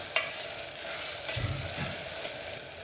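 Fresh field beans stirred and fried in a pan for vaangibaath, a steady soft sizzle with a couple of brief scraping stirs, close and alone with no talk.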